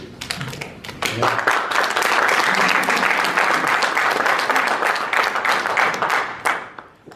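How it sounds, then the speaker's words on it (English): An audience at a legislative candidate forum for a state Senate district breaks into clapping that builds fast, holds strong for about five seconds, then tapers off. "we're going to ask if you would refrain from applause"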